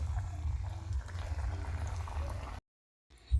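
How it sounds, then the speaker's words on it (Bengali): Potato pakoras slide into hot oil in a wok, giving a steady low bubbling sizzle that runs for a couple of seconds, cuts to silence, then resumes with a louder burst of frying. "এবার আমি এর মধ্যে পকোড়াগুলো দিয়ে দিচ্ছি"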